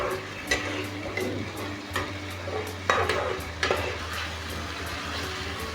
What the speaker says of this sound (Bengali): এবার মশলাটা খুব ভালোভাবে কষিয়ে নেব।